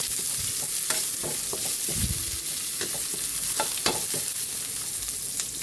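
Garlic and onion sizzle as they sauté for ginisang sayote, a continuous close frying crackle broken by repeated spatula scrapes and stirring taps in the pan.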